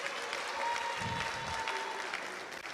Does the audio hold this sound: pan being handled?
no